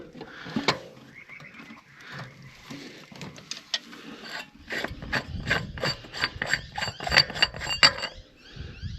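An AISIN locking hub cover on an L300 4x4 van is twisted off, giving close mechanical clicking and ratcheting. It starts with sparse clicks and builds into a rapid run of ratchet clicks.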